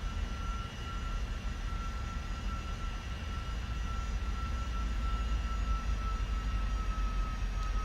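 PMDG 747-400 jet engines in the Prepar3D flight simulator on a night approach into Toronto, a steady, loud broadband roar with a thin high whine, continuous and unbroken with no talk.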